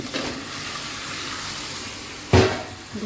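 Vegetables dropped into a pan of fried spices while cooking a fish and vegetable curry in a home kitchen, giving a steady broad hiss of sizzling throughout, with a louder sputtering surge near the end and no talking.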